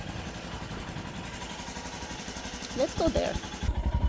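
Royal Enfield motorcycle engine running with a steady low idle throughout, slightly louder near the end, while a person talks briefly over it outdoors.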